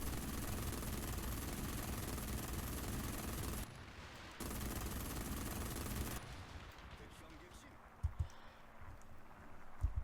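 In War Thunder, a 20mm Gatling gun firing 3,000 rounds per minute rips out a continuous roaring burst, stops briefly, then fires a second long burst before cutting off, leaving quieter game sounds and a few faint thumps.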